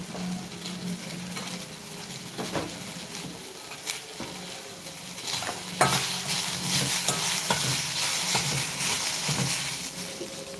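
Tomato, ginger and garlic roast in a pan, with a steady sizzle broken by repeated scraping and clattering stirs that grow busier and louder partway through; no one speaks.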